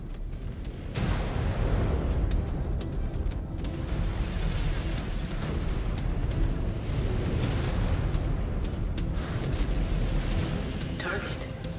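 Missile impacts and explosions in MechWarrior 5 Clans, a mech battle against a Jaeger mech: a continuous heavy barrage of booms and blasts rolls on throughout, dense and loud, with sharper cracks layered on top and speech underneath.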